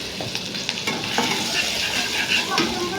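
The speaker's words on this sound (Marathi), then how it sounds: "जिरं थोडं तडतडलं की त्याच्यामध्ये आपण लसूण आणि मिरची बारीक केलेली घालणार आहे, ती थोडीशी भाजून देणार आहे आपण 2 मिनिटासाठी।" Minced garlic and green chili fry in hot oil with crackling cumin seeds, a steady dense sizzle broken by scraping stir strokes and light clicks of a spoon against the pan, close and fairly loud with no voices.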